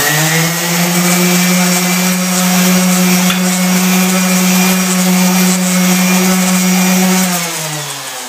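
A DeWalt orbital palm sander works on drywall with a loud, steady motor whine close by for about seven seconds, then winds down as it switches off.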